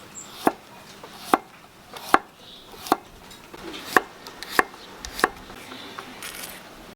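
Garlic being coarsely chopped on a board gives about eight sharp, separate knife knocks at an uneven, unhurried pace, close and distinct over quiet room tone.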